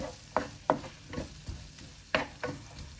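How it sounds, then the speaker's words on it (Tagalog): Onion sautés in a pan for chicken adobo: a soft sizzle runs underneath while about seven sharp scraping stir strokes come at uneven intervals, close by and with no talking. "Lutuin lang muna natin yung ating onion."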